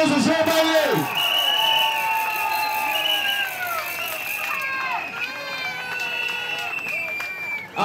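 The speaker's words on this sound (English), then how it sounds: "Big round of applause for Shaun Bailey" A crowd applauds and cheers at a London rally in Trafalgar Square, a dense, steady roar of clapping and whoops lasting throughout, with some voices calling out over it.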